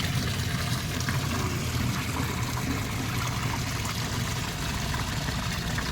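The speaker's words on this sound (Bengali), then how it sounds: "মুখ দিয়ে জল বেরোচ্ছে।" Water pours steadily from a fountain spout at Boldt Castle in the Thousand Islands, a constant close splashing trickle that runs unbroken for the whole stretch with no talk.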